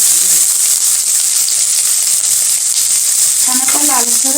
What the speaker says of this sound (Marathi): कढईमध्ये एक चमचा तेल घातलेला आहे यामध्ये आपण हा कांदा